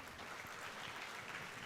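Applause from a conference audience at a student accountancy gathering, a steady, faint wash of many hands clapping for under two seconds with no voices.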